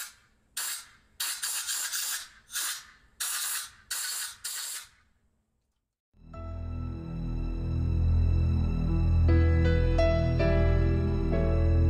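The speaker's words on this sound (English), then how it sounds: "I'm basically going to be holding the blades in place while I spray the compressed air on it" Compressed air sprays in several short hissing bursts onto an Xbox 360 Halo 3 Special Edition console fan, each lasting about half a second, then stops and gives way to loud game music.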